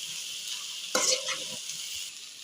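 Okra frying in a pan gives a steady hissing sizzle, with one brief louder burst of sizzling and stirring partway through.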